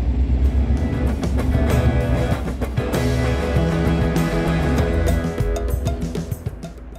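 A boat motors out of a lock chamber, its engine giving off a steady, fairly close rumble with churning water that holds throughout before easing slightly at the end.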